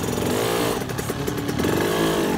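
Motorcycle engine on a sandy trail revs steadily at close range after a gear change, a continuous buzzing drone with slight rises and dips in pitch and no talk over it.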